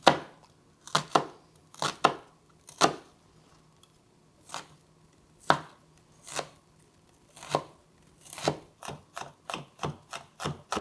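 A knife chops shallot on a cutting board in a string of sharp, close knocks, some in quick pairs or runs, with short pauses between them.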